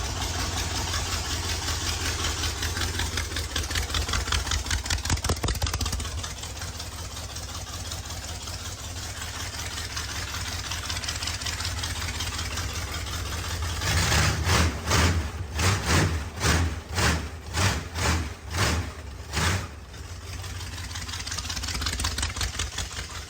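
A Model A rat rod engine cranks and then runs: steady churning noise gives way to a rapid run of strong rhythmic firing pulses, then settles back into a rough, continuous running drone, close and loud.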